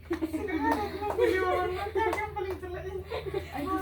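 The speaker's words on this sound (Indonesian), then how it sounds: "Silahkan berikan tepuk tangan untuk kita semua" Students in a classroom clap their hands in a loose burst of uneven claps mixed with children's chatter and a little laughter.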